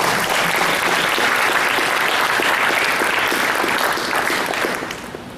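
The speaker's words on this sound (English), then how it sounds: "So give a big round of applause to our operating committee" A large audience applauds a program's operating committee, a loud, dense wash of clapping that runs steadily for several seconds before starting to taper off at the end.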